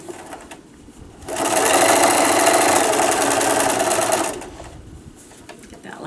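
A sewing machine stitches a seam on a fabric pincushion lined with muslin, its fast, even mechanical whir running for about three seconds, with quiet moments before and after.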